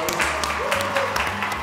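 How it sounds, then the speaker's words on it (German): Applause for two friends, Nico and Sven: a short spell of crowd clapping at moderate level, with voices talking over it. "der Applaus für euch"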